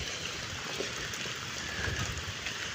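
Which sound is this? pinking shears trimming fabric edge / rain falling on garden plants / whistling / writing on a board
rain falling on garden plants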